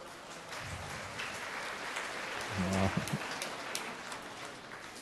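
A church congregation at a homily claps loudly together, a sustained rain-like wash of many hands at moderate distance with a brief swell midway, and a voice briefly heard within it.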